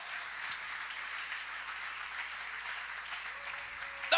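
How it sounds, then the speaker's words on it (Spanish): Church congregation clapping in worship, a steady dense wash of applause held at an even level from start to finish, with a faint tone appearing near the end. "Dale fuerte esas palmas al Dios de la gloria."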